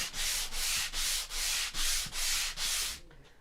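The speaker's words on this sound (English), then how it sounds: "Now we're going to sand these really lightly." Sandpaper lightly rubbed over a painted wooden craft piece with white polka dots, in seven even back-and-forth strokes, close and clear with no talking.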